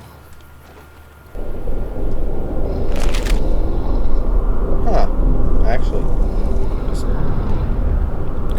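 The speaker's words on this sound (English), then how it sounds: "you can actually hear the storm outside" A stormy outdoor ambience in the game Fallout New Vegas: a steady low wind roar with rumbling bursts, like thunder, running under a voice throughout.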